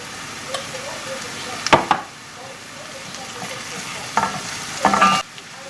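Onion and carrot frying in hot oil while being stirred for a meatball soup, a continuous low sizzle broken by several short bursts of louder scraping and crackling as the pan is stirred.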